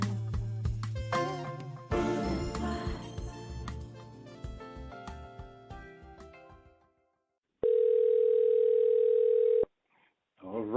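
A telephone dial tone sounds before a call is placed on a talk show, a steady loud tone lasting about two seconds after music fades out, then briefly returning.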